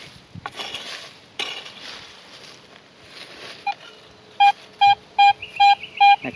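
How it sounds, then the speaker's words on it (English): A Garrett AT Pro metal detector sounds five short, evenly spaced electronic tones near the end, after a stretch of faint rustling leaves and ground noise outdoors. "check it again with a detector coil"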